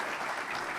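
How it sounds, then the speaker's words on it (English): Brief burst of audience applause at an annual lecture event, a roomful of people clapping for Scott, dense and steady for under a second. "can we give Scott a round of applause for everything he does for the institution?"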